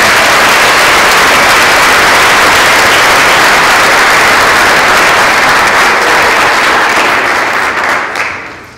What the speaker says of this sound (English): Please, one more time, a big round of applause.